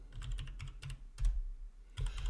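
Typing on a computer keyboard, soft clustered key clicks in short bursts separated by brief pauses, close and quiet over a low hum.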